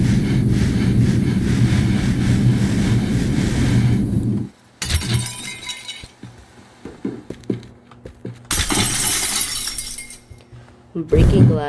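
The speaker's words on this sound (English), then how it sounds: "I'm breaking glass through grass." Glass shattering in the destruction game Teardown, loud crashing bursts set against heavy low rumbling and engine-like noise, with a person talking over parts of it.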